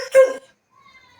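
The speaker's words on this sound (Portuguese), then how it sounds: "Se liga a máquina, aí começa o latido." A single old dog barks sharply close by, a short yelping bark that fades into near silence, with the next bark starting at the very end. Indoors beside a running washing machine.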